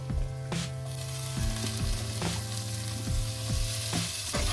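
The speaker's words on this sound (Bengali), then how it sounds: "দুটো টমেটো কুচিয়ে রেখেছিলাম দিয়ে দিচ্ছি এতে" Oil sizzling steadily in a pan as chopped tomatoes go into a frying spice mix for a rohu fish curry with cauliflower and potato. Stirring scrapes and clinks recur along with it, and music plays softly underneath.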